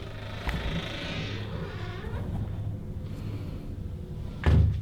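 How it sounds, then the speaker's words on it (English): A door being opened in a quiet room, with a soft early click, a faint creak in the middle, and a louder thump or bump near the end. "I'm opening this door."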